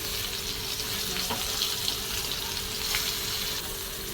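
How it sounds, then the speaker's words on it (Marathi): Masala-coated mandeli fish frying on a hot tawa, a steady close hiss and sizzle running evenly throughout without speech. "तव्यावर सगळे मच्छी आपण टाकून घेऊया अशी"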